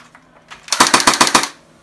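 A synthetic gunfire effect from a phone movie-effects app fires one short burst of about six rapid, loud shots in an even rhythm, heard close with no talk.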